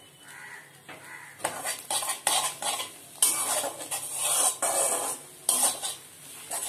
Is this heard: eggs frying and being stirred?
yes